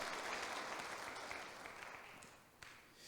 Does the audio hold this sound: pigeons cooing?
no